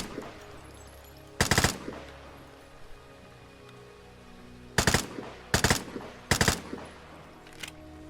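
Automatic fire from new recoiling weapons in the video game Vigor, four loud bursts of rapid shots separated by quiet stretches, the later three coming close together, with no talking.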